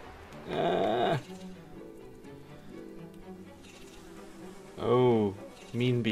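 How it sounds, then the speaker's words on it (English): Buzzing insects, flies or bees in the Bee Simulator video game, come as two loud droning bursts close to the listener, with quieter game sounds between them. "I think those are flies, actually, to be honest with you."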